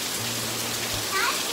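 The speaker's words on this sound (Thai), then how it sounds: "โอ้โหตกหนักจริงๆเพื่อนฝน" Heavy rain pours steadily onto a surface close by, a dense continuous hiss, with a faint voice briefly audible beneath it.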